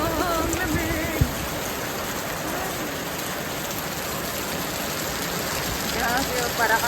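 Heavy storm rain on a farm, driven by strong wind during a lightning storm, pours down as a steady, dense, close hiss that holds at the same level from start to finish.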